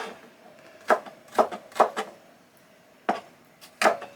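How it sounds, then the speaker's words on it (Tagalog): Onion being chopped on a board for fried rice, a few separate knife strikes with short pauses between them, close and crisp, no talking over them. "At ah, ano yung nihiwa mo naman, mami? Sa sibuyas to, sa fried rice."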